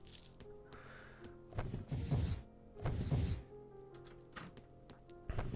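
Gunshots in the video game Our Darker Purpose: a few dull, thudding shots at irregular intervals, each with a short rumbling tail, fairly quiet against a soft game background.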